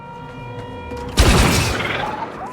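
Gunfire in the Star Wars Outlaws video game breaks out as a sudden loud burst of shots over a steady background hum, then decays into a rumbling tail.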